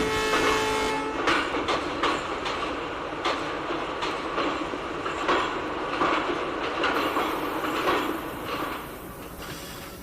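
A video-game passenger train on the Rewa–Rajkot Express with ICF coaches rumbles steadily with rhythmic wheel clatter, loud and close, easing off slightly toward the end as it slows to a stop.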